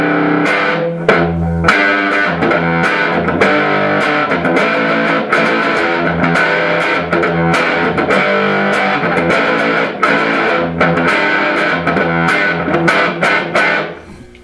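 An electric guitar plays jazz chords through a Dr. Boogie distortion pedal with two gain stages, loud and sustained, with repeated strummed chord attacks ringing out over about fourteen seconds before fading at the end.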